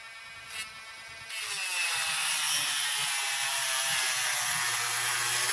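A Dremel rotary tool trims a screw off a Remington 700 trigger: after a brief quiet moment with a small knock, the high whine spins up and holds loud and steady, with grinding chatter underneath as it cuts the metal.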